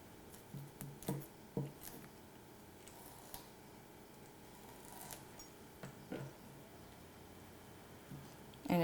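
A knife trims the center stems out of kaffir lime leaves while preparing Thai curry: faint, close, irregular snips and small clicks of the blade against the board, with soft rustling between them and a slightly firmer knock at the end.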